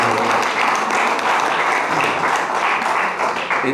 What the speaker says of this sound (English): a big round of applause for the Ministry of Tourism